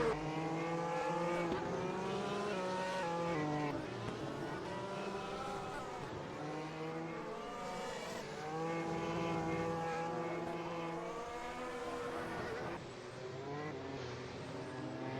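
Race cars circle a Spanish track in the rFactor2 racing game, with engines revving up and down through gear changes in a loud, continuous drone and no commentary over it.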